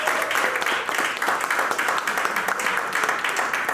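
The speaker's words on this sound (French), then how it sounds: "je vous demande de recevoir, comme il se doit, avec une pluie d'applaudissements" Audience applause at a conference on cultural industries and economic development, a steady wash of many hands clapping that stays loud and even for the whole stretch, with no voice over it.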